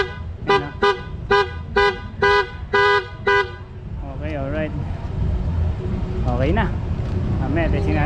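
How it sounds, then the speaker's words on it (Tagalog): A PIAA horn fitted to a Honda Click V3 scooter gives seven short, loud, evenly spaced honks, followed by someone talking over a low idle. "Busina. Busina."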